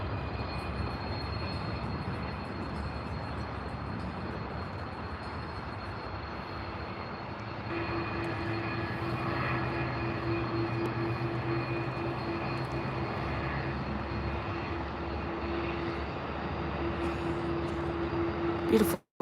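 Jet engines of a KLM Airbus A330 airliner at Calgary airport, a steady broadband roar with a faint whine, swelling slightly midway and holding at a constant distance throughout.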